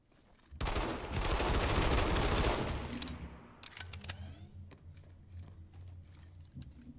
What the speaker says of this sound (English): Take some time to get comfortable with shooting, and familiarize yourself with your weapons and classes.